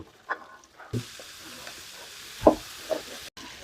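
Boiled chickpeas hitting a pan of fried onion, garlic, turmeric and chili, giving a soft sizzle with a few stirring scrapes and clinks, quiet and close, with no talking.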